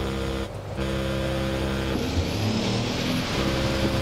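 A truck engine hums steadily and grows fuller as it draws nearer, a low rumble that shifts midway into a rougher, louder drone with no voices over it.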